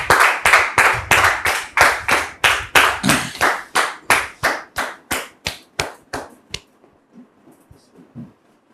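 Rhythmic clapping rises for a guest welcomed on stage, sharp, regular claps in a steady beat that gradually thin out and fade to a few scattered taps before stopping.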